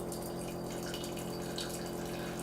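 Freshly brewed French press coffee pours out of the glass carafe in a steady, continuous liquid stream, heard close and alone at a moderate level.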